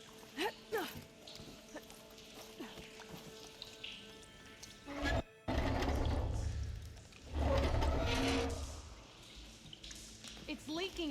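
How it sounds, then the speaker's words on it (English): Water leaking from a pipe in the video game Horizon Forbidden West, a rushing gush that bursts in loudly after a short pause and surges again, following and mixed with character dialogue. "It's leaking again."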